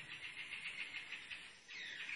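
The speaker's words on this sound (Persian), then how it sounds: "صدای این پرنده ها رو میشنوید؟" Birds call near the Bat Cave in Dehloran, a steady high chirping chorus with rhythmic pulses and a brief swell near the end, fairly faint against a quiet background.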